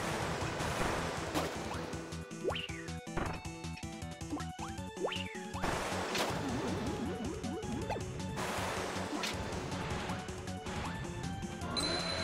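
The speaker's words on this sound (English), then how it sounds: "I'm going to thaw out this ice and make water!" Ice thawing into water in Kirby's Return to Dream Land sounds as loud crashing, rushing game effects like surging water, with bright chimes and music underneath, continuous and close.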